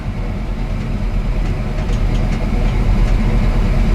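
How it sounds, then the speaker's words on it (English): A carbureted 1984 Chevy truck engine idles after a fuel pump repair. It gives a loud, continuous low rumble with a slight uneven shimmy, close by and alone. "She's idling. A little bit of a shimmy, but it is an old carbureted truck."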